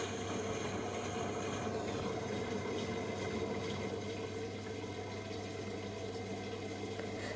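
A Samsung Quick Drive WW90M645OPO washing machine takes in water through its jet, giving a steady rushing, splashing flow with a low motor hum that continues evenly throughout, with no talking.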